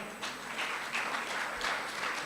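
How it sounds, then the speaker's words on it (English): An audience at an art and lifestyle expo launch gives a short burst of scattered clapping, fairly quiet and with no voices over it. "give them a clap"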